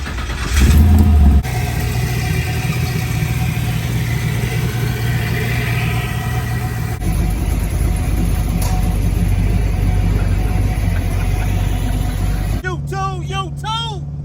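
An LS3 V8 swapped into a 1972 Chevrolet Impala convertible rumbles at a steady idle close by, with a short burst at the start and a change partway through before the engine cuts out, leaving birdsong.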